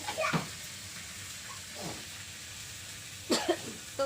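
Several sharp coughs break out from someone choked by fumes of green chillies frying in oil, a pair at the start, a softer one midway and a cluster near the end, with a faint sizzle underneath.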